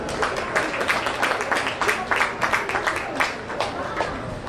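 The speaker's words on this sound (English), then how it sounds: "Let's give them one big round of applause." An audience at a county fair sheep and goat show bursts into loud, dense applause, with rapid overlapping claps that continue steadily throughout and build slightly before tapering.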